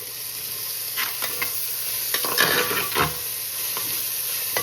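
Onions frying with salt in a clay pot, a steady sizzle beneath repeated scraping and tapping strokes of a spoon stirring, close and moderately loud with a busier cluster in the middle.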